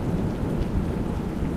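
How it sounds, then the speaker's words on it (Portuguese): Steady rain and a low rumble of thunder from a horror video game fill the scene as a dense, constant wash with a deep underlying roll and no voices. "Sim, é som de chuva, né, meu amor?"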